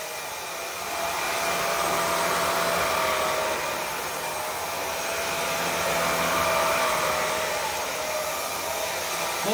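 A vacuum cleaner's brush head whirs steadily up close, a loud continuous motor hum with a thin high whine, swelling slightly midway with no voices.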